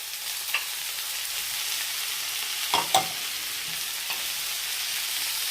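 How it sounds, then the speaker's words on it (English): A can of lentils goes into curry sauce with collard greens and mushrooms in a pan, giving a steady soft sizzle with a few scraping stirs and clinks of a utensil. "So now I'm going to add my lentils."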